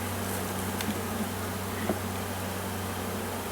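Honey bees in an opened, packed hive give a steady, dense buzzing hum that holds without a break, close and even, with no talk.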